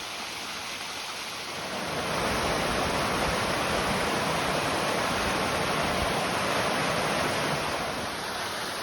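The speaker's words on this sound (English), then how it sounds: "we came to Mountaineer Falls" Mountaineer Falls on the Appalachian Trail: a steady, dense rush of falling water, a constant roar that swells slightly after the first couple of seconds and holds without pause.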